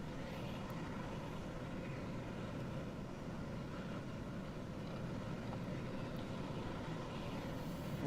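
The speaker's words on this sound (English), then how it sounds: "the Luftwaffe have been cleared for both their takeoff and their display" A Luftwaffe Airbus A400M turboprop transport taking off for a display at an air show, a steady, broad engine roar with propeller drone that holds loud and constant throughout, with no talk.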